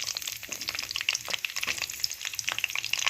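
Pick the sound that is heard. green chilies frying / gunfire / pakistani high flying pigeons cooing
green chilies frying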